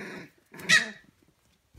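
A two-week-old Siberian husky puppy gives a short, close growl lasting under a second, then quiet until a soft sound at the end.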